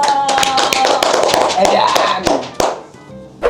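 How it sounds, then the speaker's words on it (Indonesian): Hands clap in sharp, fairly loud strikes at an uneven pace, a few people joining in close by while voices and laughter carry on around them. "tepuk tangan dong"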